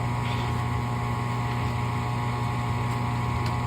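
A newly replaced furnace inducer motor runs steadily with a constant, droning mechanical hum and faint whir, heard close by and continuous throughout with no talking.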